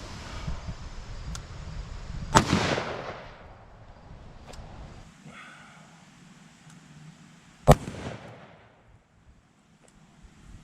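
Two sharp, loud 7.62x39 rifle shots into a ballistic-gel-filled chicken, each cracking out and echoing away, separated by several seconds of quiet outdoor ambience.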